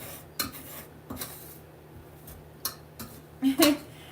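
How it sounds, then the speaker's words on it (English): A utensil scrapes ice off the top of a dish while making a magic rice crispy treat, producing a series of short, uneven scraping and clinking strokes, with a couple of louder ones near the end. "So we're just gonna scrape all that we can scrape off."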